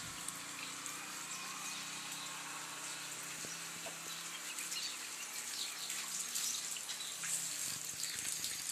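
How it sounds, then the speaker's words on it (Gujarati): Steady hiss of heavy monsoon rainfall in a village, with faint dripping and occasional distant bird calls, continuous and soft throughout. "વરસાદ ફૂલ ચાલુ છે"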